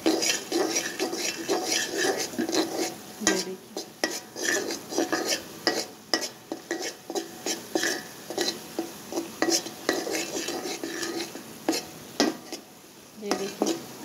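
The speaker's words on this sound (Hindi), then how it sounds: "अमेज़े ने घी छोड़ दिया है, बस 1 मिनट के लिए और इसे चलाएंगे।" A ghee-cooked mixture is stirred in a pan, the spoon scraping and clinking against the metal in steady repeated strokes, with a soft sizzle underneath, close and fairly loud throughout.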